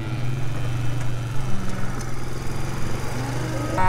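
A worn Suzuki King Quad farm ATV engine runs in a steady, buzzing, low drone close by, holding an even pitch throughout with a faint animal call at the very end.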